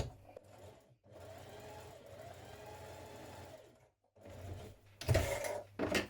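Sewing machine stitching a sleeve cap for a Simplicity 1447 garment, running in several humming bursts separated by short pauses, close and moderately loud.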